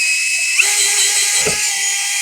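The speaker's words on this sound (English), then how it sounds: "with the hole saw, we're going to be super careful and easy" A power drill whines continuously as a hole saw grinds through plastic while mounting a Jeep Wrangler JK accessory mount, close and loud, with a brief thump midway.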